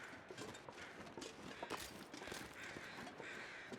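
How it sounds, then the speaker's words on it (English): Crows caw in a snowy wilderness in the survival game The Long Dark, several harsh calls scattered over a steady wind-like hiss, with soft crunching footsteps underneath. "I hear some crows"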